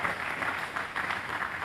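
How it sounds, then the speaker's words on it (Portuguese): A church congregation at a Sunday evening service applauds together, a dense, steady wash of clapping filling the room without a break. "Vamos aplaudir o nosso Deus."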